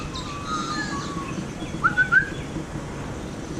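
Magpies and seagulls calling outdoors, with a few short whistling chirps early on and a brighter, louder warbling call in the middle, set against steady low background noise.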